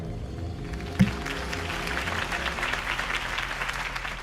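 A crowd claps in steady, moderate applause in Batman Telltale, a video game, heard from a middle distance with a single soft thump near the start.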